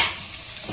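Onions and curry leaves fry over a high flame in a pan, a brief soft sizzle with a faint hiss of oil and no voices.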